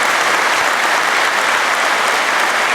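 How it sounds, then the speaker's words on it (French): A large hall of delegates at the closing session of the 99th congress of French mayors breaks into dense, steady applause, loud and continuous throughout with no voices over it. "nos 3 présidents d'honneur que je vous demande d'applaudir, Daniel Lefeul, Jacques Pélissard, Jean-Paul"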